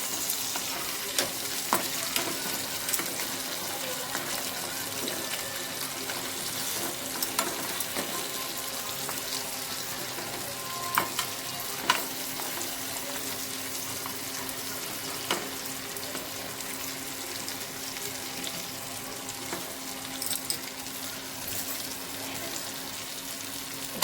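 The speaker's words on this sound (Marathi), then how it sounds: "तर आता हे थोडे बॅक साईडने भाजले आहेत. आता त्याला पलटून घेते, जेणेकरून ते पीठ चांगलं भाजेल." Flour-coated crabs being flipped and roasted in a pan for a spicy crab rassa, a continuous close sizzle dotted with scraping and clinking as pieces are turned, no talk.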